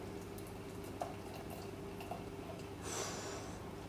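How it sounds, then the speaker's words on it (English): Mountain Goat Hazy Pale Ale beer being poured: a faint, quiet liquid sound with a short burst of fizzing splash near the end. "Here's the pour."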